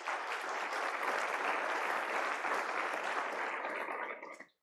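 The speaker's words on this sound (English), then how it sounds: "You can give yourself a clap as well." Conference audience at an Open Repositories closing session clapping steadily, a dense even wash of applause for a few seconds that tapers off quickly at the end.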